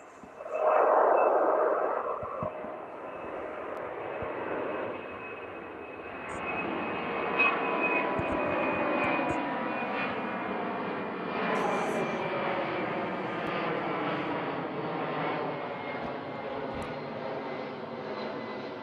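A freight plane takes off at East Midlands Airport, its jet engine roar swelling loud near the start, then settling into a sustained, broad rumble that holds steady throughout with no talk.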